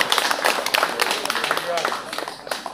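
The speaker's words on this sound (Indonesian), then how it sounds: "Tepuk tangan bagi." Applause with scattered hand claps from an audience at an Indonesian cultural discussion session, rising briefly at a moderate distance under a busy hall background.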